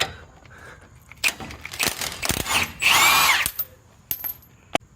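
Power tool zipping out a 13/16 bolt during a wheel bearing replacement, a few short bursts of whirring and rattling with one longer, louder run near the middle, close by and alone.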